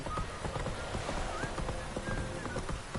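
Horse hooves clip-clop steadily in the fantasy video game The Witcher 3, a close rhythmic trot with occasional neighs and ambient outdoor game sounds.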